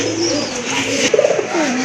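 Pigeons coo in a low, throaty murmur at a bird market, with a short bubbling call near the middle over a steady background hum.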